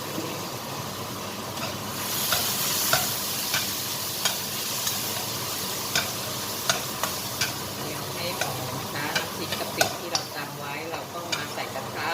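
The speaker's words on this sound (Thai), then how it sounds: "คุณแม่ก็จะตักน้ำพริกขึ้นมาค่ะ เจียวค่ะ" Nam prik kapi (shrimp paste chili paste) frying in a pan for fried rice, a loud continuous sizzle and crackle with repeated sharp spatula clicks and scrapes against the pan, close up with no talking.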